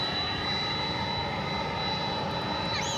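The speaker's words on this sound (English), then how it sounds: "what you hear there, revving up, is what we're just about to show you." A steady, loud roar of an airliner engine revving up at high power at Dallas/Fort Worth airport, continuous and unbroken throughout, with a faint whine on top.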